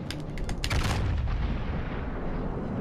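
Secondary guns on the Yamato battleship in World of Warships: Legends fire at close range: a rapid cluster of sharp shots in the first second rolls into a heavy, sustained booming rumble, loud and without talk.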